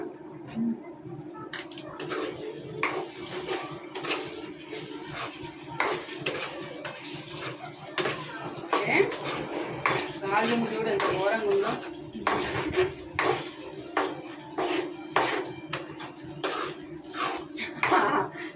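A spoon scrapes and clanks against a pot as chicken curry is stirred, in repeated sharp metallic knocks at an irregular pace, with bits of talk and a cough in between.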